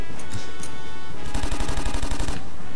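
Bursts of gunfire in the tactical shooter game Takedown: Red Sabre, a few scattered shots early followed by a dense, loud rapid volley lasting about a second before it cuts off.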